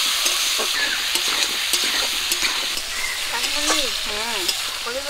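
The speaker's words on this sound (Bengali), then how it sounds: "গরম তেলে দিয়ে দিচ্ছি পটল আর আলু" Pointed gourd and potato fry in hot mustard oil in a wok, a steady dense sizzle with stirring scrapes throughout, and faint bird-like chirps in the background.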